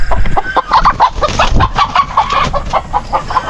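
Hens clucking loudly and close by on a small poultry farm, with a busy overlapping chorus of calls that keeps going throughout.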